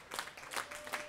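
Spectators at a bowling tournament final give a brief, faint round of scattered applause in an indoor bowling alley.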